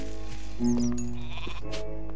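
Sheep bleating in Minecraft, a single drawn-out bleat heard up close and loud over a steady game background hum, with no talking.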